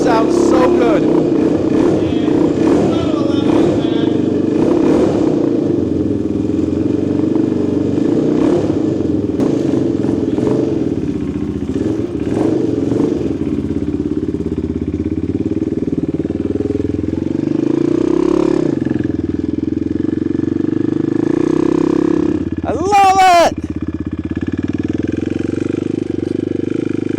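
A restored Honda XR motorcycle runs through its exhaust after a kick start, a steady, loud, close engine rumble with a brief rev near the end, and people talking over it.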